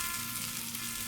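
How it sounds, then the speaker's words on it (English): Steak and macaroni sizzle and bubble on the stovetop of a slide-out camp kitchen on an overland trip, a steady, close frying hiss with no voices. "steak and macaroni were soon sizzling and bubbling on the slide-out kitchen stovetop"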